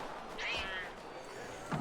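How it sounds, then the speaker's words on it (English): A single short cat meow in the video game Assassin's Creed III, set on a Boston street in 1755, rising faintly above a constant bed of ambient town noise. "Cat."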